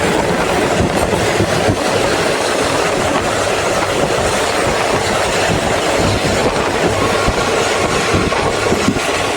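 An express passenger train rumbles loudly along the rails, a steady roaring clatter with rolling wheel noise and no break throughout.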